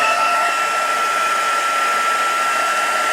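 Close, continuous blowing hum of a heat tool heat-setting embossing powder on a handmade Stampin' Up! Mother's Day card, running steady and unbroken with no voices.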